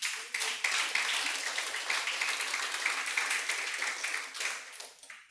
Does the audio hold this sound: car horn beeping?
no